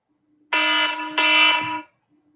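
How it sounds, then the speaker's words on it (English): An electronic alarm goes off indoors in a nail anatomy lesson, two loud, harsh buzzing blasts back to back lasting about a second and a half in total, with near silence on either side. "Didn't realize my alarm was on."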